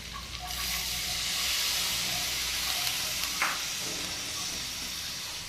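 Mustard paste hits a hot pan while cooking a prawn malai curry with coconut, a steady soft sizzle and hiss with a brief clink partway through.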